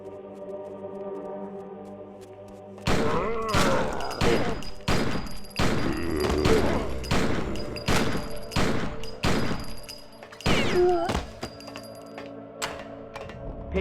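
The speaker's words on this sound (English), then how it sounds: "Back away while shooting, keeping maximum distance between yourself and the night crawlers" Gunfire in Blair Witch Rustin Parr, with sharp, loud single shots spaced irregularly, some in quick pairs, over a low ambient hum after a quiet opening, while a voice talks between the shots.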